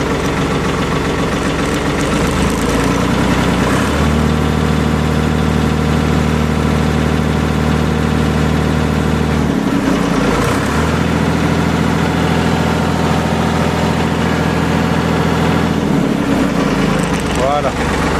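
A Ford 4110 tractor engine idles close by, then revs up twice as the throttle is opened. Each rise holds a steady, deeper drone for a few seconds before dropping back, with a voice faintly over the running engine.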